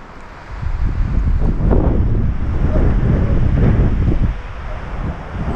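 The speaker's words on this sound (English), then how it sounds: "Man, it'd be perfect without that wind, bro." Heavy wind buffets the microphone during an outdoor swamp rabbit hunt with a beagle pack near Texarkana, as a loud, sustained low rumble that swells and eases slightly, with no voices.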